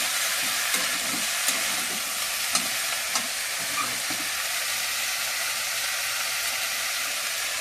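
Taro, greens and potato stir-frying in a pan, a steady loud sizzle with scattered scraping stir strokes throughout, no voices.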